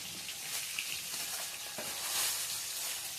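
Fish crackle and sizzle in oil in a kadai, a continuous near frying hiss with faint stirring knocks and small pops scattered throughout, no one speaking.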